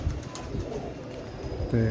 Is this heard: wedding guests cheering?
no